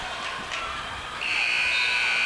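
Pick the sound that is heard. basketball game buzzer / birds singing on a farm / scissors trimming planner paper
basketball game buzzer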